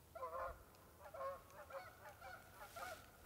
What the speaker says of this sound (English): Can you hear those geese?